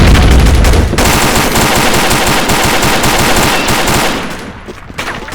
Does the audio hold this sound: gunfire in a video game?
yes